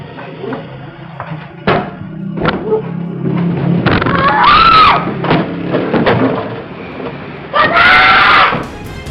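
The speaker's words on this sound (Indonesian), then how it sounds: "Korban justru berteriak dan melawan sehingga terjadi keributan di dalam gerai" A woman screams during an attempted armed robbery with a bladed weapon inside a BRI bank outlet, two loud, high wavering shrieks amid clattering commotion and scattered thuds.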